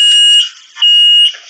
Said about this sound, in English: Yeah, that was the alarm.